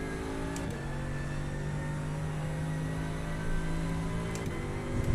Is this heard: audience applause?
no